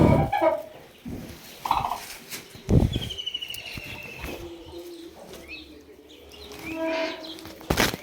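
Chickens and chicks cluck and peep close by, with irregular bursts of hen clucking over faint high chick cheeps.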